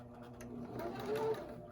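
Sewing machine running in short bursts as it stitches a pillow, steady mechanical whir rising toward the end, close and fairly quiet.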